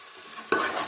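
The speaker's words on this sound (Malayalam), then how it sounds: "ഉള്ളി നല്ല വെന്ത് വരട്ടല്ലേ" Onions stirred in a hot pan start to sizzle with a sudden burst of frying noise halfway through the short moment, soft and close, with no talking.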